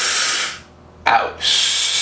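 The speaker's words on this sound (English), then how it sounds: "A drill I like to do is stand on one leg and breathe audibly in" A person standing on one leg during a balance drill takes audible breaths, two steady airy stretches close to the mic separated by a short pause and a sharp intake.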